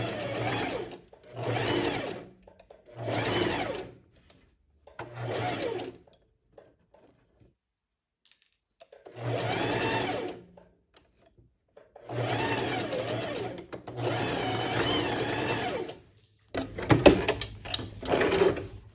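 A sewing machine stitches the side seams of a lined tailored vest, pins still in the fabric, running in several separate bursts of steady close-up whirring with short pauses between them.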